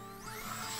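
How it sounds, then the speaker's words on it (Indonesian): Power drill with a 4 mm bit boring through light-gauge steel framing for a refrigerator stand, a steady high whine that rises in pitch and stays continuous through the short clip, with no talk over it. "Ini saya mengebor menggunakan mata bor 4 mm ya rekan-rekan, sesuai dengan ukuran dari paku rivetnya"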